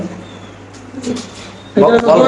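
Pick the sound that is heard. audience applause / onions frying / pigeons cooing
pigeons cooing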